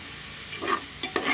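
Spices with turmeric, salt, coriander and cumin powder fry in a pan, sounding as a couple of short, soft sizzling bursts over a quiet background, with no talk.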